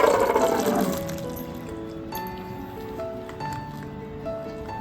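Water from boiled lentils drains off through a strainer in a home kitchen, opening with a loud splashing gush that quickly thins into a softer trickle and drip, with faint background tones.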